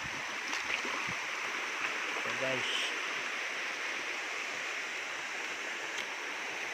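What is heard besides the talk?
flowing stream at a rest stop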